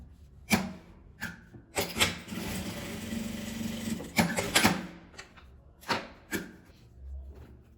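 Domestic sewing machine stitching the edge of a small fabric coin purse, short bursts of rapid mechanical whirring separated by pauses and soft handling sounds, close and moderately quiet.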